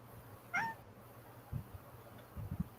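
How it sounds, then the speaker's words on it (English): A cat gives a single short meow at night near a lake, faint and somewhat distant, followed by a few low soft thumps in a quiet outdoor setting. "I heard a cat."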